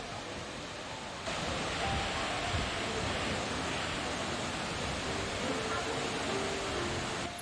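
Broadband rushing water of the Hongje Waterfall on the Hongjecheon stream in Seoul, a steady close roar that grows louder after the first second and continues unbroken.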